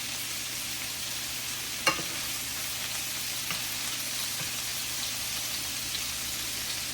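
Meatballs fry in a pan on a stove, giving a steady, close, crackling sizzle with a single sharp pop partway through and no talking.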